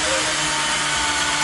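A power drill whirs steadily against a wall while trying to bore a hole, a loud continuous buzzing drone that fills the whole moment without pause.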